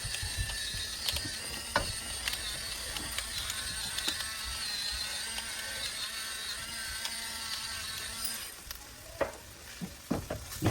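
Pepper mill grinding pepper over a barbecue family platter, a dry ratcheting crunch repeating close by against a faint background sizzle, with no speech.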